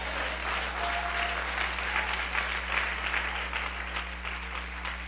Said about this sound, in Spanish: ¿Cuántos aplauden en el nombre del Eterno?